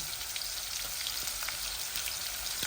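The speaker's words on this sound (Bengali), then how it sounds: "এই যে দেখুন এই রসুন লাল হচ্ছে, এই দিয়ে দিচ্ছি আমি খাট্টার মধ্যে অনিয়ন" Garlic and onion frying in hot oil for a khatta curry give a steady, close sizzling crackle with fine popping spatters throughout.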